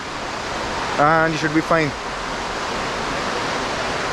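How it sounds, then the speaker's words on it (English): Steady broadband rush of a commercial waterfall and mountain stream near Drung in Gulmarg, continuous and fairly loud throughout, with someone speaking briefly over the water noise partway through. "Sadly, this is a very commercial waterfall, but there are streams like these that I think you can get into"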